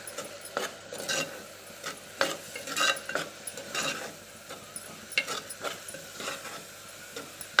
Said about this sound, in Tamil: கருவேப்பிலை பொடியை ஆட் பண்ணி ஆட் பண்ணி அதை நல்லா வதக்கிக்கலாம்.